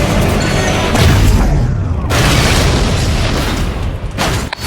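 A loud, booming video game explosion in Stuntman: Ignition rolls on for several seconds, dense and heavy, with a second blast hitting partway through.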